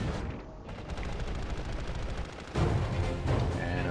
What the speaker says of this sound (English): I heard gunshots